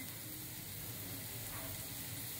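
Raw green mango pieces fry steadily in hot oil, a soft, continuous hiss and crackle with no pauses, faint and even throughout.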